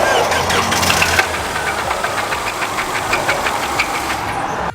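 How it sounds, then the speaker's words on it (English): A car engine starts close by and settles into a loud, constant rattling knock over a rough rumble, cutting off abruptly at the end. "I'm gonna have her start the car to see if you guys can hear this"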